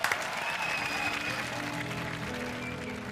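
A studio audience at a robot combat grand final claps in a steady, fairly faint round of applause, with a few whoops and a voice lightly mixed underneath.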